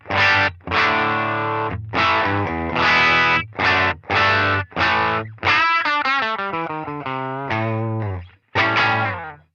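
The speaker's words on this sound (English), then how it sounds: "So I've got a woody, bright, edge of breakup style tone without the overdrive engaged that sounds like this." Electric guitar through an amp with a woody, bright, slightly gritty edge-of-breakup clean tone, no overdrive pedal engaged, playing a series of chords and a short melodic run, alone with no talking.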